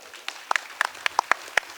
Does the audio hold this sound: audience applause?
yes